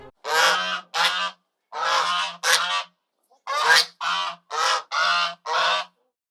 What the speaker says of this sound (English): It's a goose, honk honk.